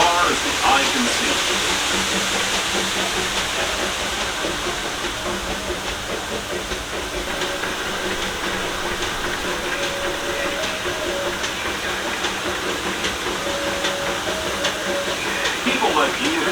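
Steam train ride at Disneyland on a very rainy day, a steady broadband hiss of steam and rolling rail noise running continuously, with faint clicks and a narrator's voice heard under it.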